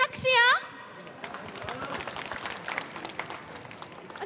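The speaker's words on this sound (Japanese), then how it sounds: "皆様拍手よ。" Audience clapping at a winner's interview after a race, a thin, scattered patter of applause that follows a brief whistle-like sound and a voice at the start.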